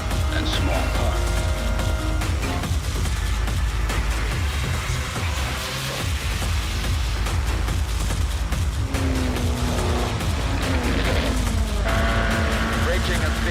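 A Trans-Am race car, driven by John Morton on the freshly resurfaced Watkins Glen road course in New York, roars at speed with rising and falling engine pitch. A narrator speaks over the engine the whole time.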